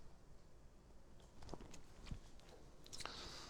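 Chewing and biting while tasting a skillet white bean dip with spicy Italian sausage, soft, close, irregular mouth sounds with a few crunchy clicks, alone without talk.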